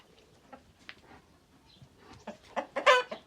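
Chickens cluck in short, scattered bursts, quiet at first and then louder and busier toward the end, with no talking.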